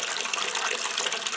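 Liquid pours steadily through a cloth bag in a sieve bucket and drains out a spout into another bucket, a continuous close splashing trickle with no talk.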